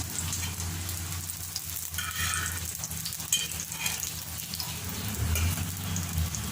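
Fish cutlets fry in a pan, turned to their second side, with a steady crackling sizzle throughout and occasional stirring or spatula scrapes, close and continuous without talk.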